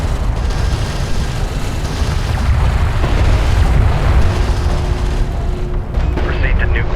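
In the real-time strategy game Homeworld: Deserts of Kharak, fire support lands as continuous loud rumbling booms and dense explosions, with radio chatter from units over the barrage.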